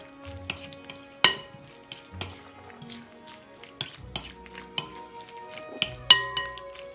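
Egg white being stirred into raw beef in a bowl, with close clinks and scrapes of a utensil against the bowl at an uneven pace over a low, wet stirring noise, with no talk.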